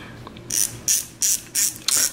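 A ratchet clicks in five short bursts while tightening the brake pad pins on the front brake of a Kawasaki Ninja 400 motorcycle, close and fairly loud, with no talking.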